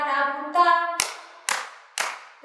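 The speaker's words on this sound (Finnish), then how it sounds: "Nyt on aika taputtaa." In a children's music class, a sung voice holds notes, then three sharp, evenly spaced hand claps ring out close by, with another clap starting at the end.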